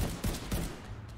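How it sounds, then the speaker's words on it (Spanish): In The Division 2, shots fired at an antenna ring out as a couple of heavy, booming bursts close together, followed by a fading echo over steady background game noise. "Estoy disparando yo la antena, tío."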